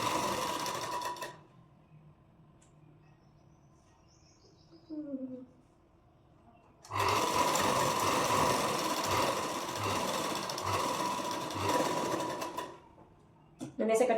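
A sewing machine stitches a blouse seam in two bursts of fast, steady whirring, one short and one several seconds long, with quieter gaps between them and a brief start at the very end.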